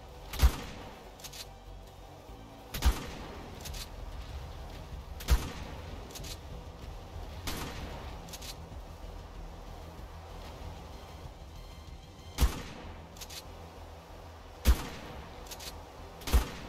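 Gunfire in the video game Genesis2 comes as sharp isolated shots spaced a few seconds apart, with a couple of quick clustered bursts near the end over a quiet low game ambience.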